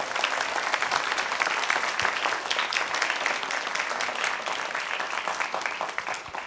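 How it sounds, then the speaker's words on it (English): Sustained applause from a school audience at an elementary fifth-grade concert and awards event, honoring the piano accompanist; steady dense clapping fills the whole stretch at even loudness with no talking. "Let's give her a round of applause."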